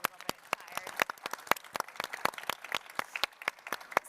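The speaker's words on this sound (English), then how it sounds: "So a round of applause." A sparse audience at a health and nutrition roundtable claps, with distinct separate hand claps in an uneven rhythm, fairly faint, over a quiet room with some voices.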